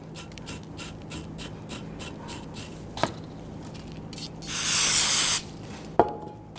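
A short hiss of chemical cleaner sprayed from a bottle onto a bench during rear brake work on a 2010-2019 Ford Taurus, one close burst of about a second amid light taps and handling noises.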